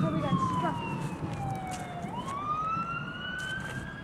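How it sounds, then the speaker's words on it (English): An ambulance siren wails in the distance, its pitch sweeping slowly down and then climbing again, a continuous tone over outdoor background noise. "The ambulance."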